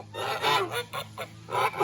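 A goose honks several times in a row, loud nasal calls up close over a steady low background hum.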